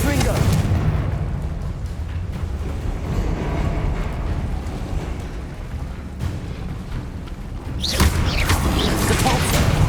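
Explosive fire-blast spell in the Hogwarts Legacy video game, a loud rumbling boom that rolls on for several seconds and swells into a fresh burst near the end, with voices in the background.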